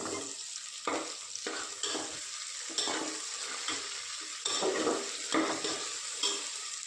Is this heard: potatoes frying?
yes